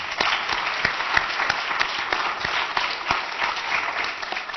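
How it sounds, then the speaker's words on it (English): Steady audience applause at a university anniversary event fills the room, with dense continuous clapping and a few sharper individual claps standing out, moderately loud throughout. "please also give a round of applause to our sponsors"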